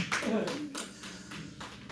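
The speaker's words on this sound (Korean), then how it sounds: "박수 한번 쳐주세요" Children in a Sunday elementary-school church class clap their hands in a short burst of applause, a series of sharp, close claps scattered over a couple of seconds with a bit of voice at the start.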